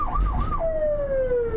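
An ambulance siren wails on a city road, first as a rapid warbling yelp and then as a long steady tone that slides gradually lower as the emergency vehicle passes, with engine and traffic rumble underneath.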